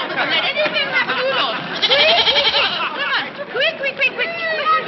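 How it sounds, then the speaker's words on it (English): A goat bleats repeatedly in quavering, wavering cries, close and loud, amid overlapping voices and excited chatter throughout. "Oh, Alexander, come on, goat. You'll be afraid of the stairs."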